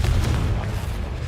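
A Confringo blasting spell in Hogwarts Legacy lands as a loud, deep boom with a rumbling low-end tail, one sustained blast heard alone.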